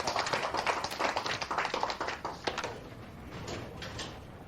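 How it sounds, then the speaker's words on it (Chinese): An audience breaks into welcoming applause, a dense patter of many hands clapping that rings out strongly at first and then thins and fades to a softer spatter. "来鼓掌欢迎"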